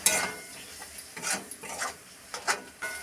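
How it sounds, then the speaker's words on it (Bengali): Soya chunks sauté with biryani masala in a pan, heard as a few short scraping stirs of a spatula at irregular intervals over a soft background sizzle. "খুব ভালো করে কষিয়ে নেব।"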